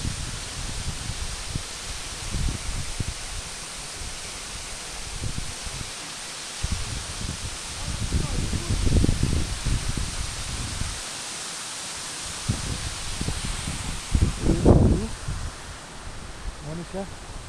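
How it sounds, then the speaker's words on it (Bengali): Amitabh Bachchan Falls, a tall waterfall near Gangtok in the hills, gives a steady broadband rush of falling water, loud and continuous, with wind buffeting and people talking nearby. "এটা অমিতাভ বচ্চন ফলস।"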